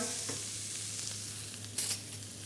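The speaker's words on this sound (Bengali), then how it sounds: "এটাকে একটু ফ্রাই করে নিচ্ছি আমরা, নাইসলি ফ্রাই।" Paneer and potato fry in a pan after a seasoning of salt with black and white pepper, a steady close sizzle with occasional stirring scrapes and one brief louder clatter near the end, no voices.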